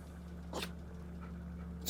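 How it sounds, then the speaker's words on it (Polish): A dog in the horror video game Blair Witch gives a short breathy snort, one sharp puff near the middle and another starting right at the end, over a low steady game hum. "Pies splunął?"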